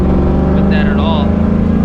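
A New Edge Mustang GT with 4.10 gears accelerates at about quarter throttle, a steady, close engine drone with strong low rumble that holds evenly throughout, overlaid by a few brief higher whines and tones.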